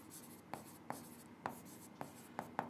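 A pen writes on paper during a physics problem explanation, producing about seven sharp scratchy strokes in an irregular rhythm, close and quiet with no talk.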